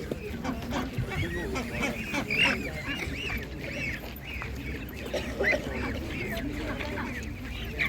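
Ducks quack and geese honk close by at a village animal market, with people talking over the birds throughout.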